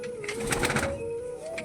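Pigeons coo while feeding, a soft rolling coo close by with a faint steady tone underneath, over about two seconds.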